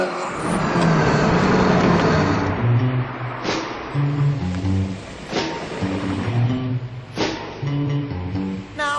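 A Ferrari 308 GTB with a 3-litre V8 engine drives past with a loud, steady engine drone, rising and falling as it shifts through gears, with sharper transient clicks and no voices.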